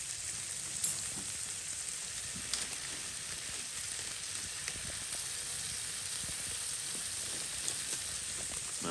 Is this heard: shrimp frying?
yes